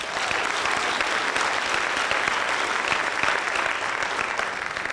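Audience applause at a school district convocation, a dense, steady crowd clapping that stays loud and continuous throughout, with no voices over it.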